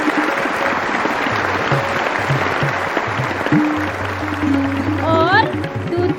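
Applause from an audience at a children's competition prize-giving during a play in Shankaracharya Nagar, Bhopal, dense and continuous for about six seconds, with faint music or tones underneath.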